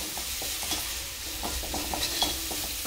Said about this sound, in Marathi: तो अगदी आता तेलामध्ये मी परतून घेणार आहे